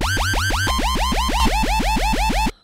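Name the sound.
bleepy dubstep bass synth in Reason after EQ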